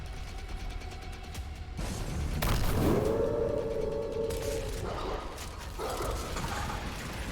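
A demon dog enemy in DOOM on PS5 gives a loud, close, drawn-out whine that rises and then holds steady for a couple of seconds over heavy rumbling game noise and mechanical clanks.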